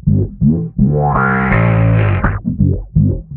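Bass guitar run through an EBS BassIQ envelope filter and distortion, plucked notes with a sweeping, vowel-like wah and a long sustained fuzzy tone in the middle.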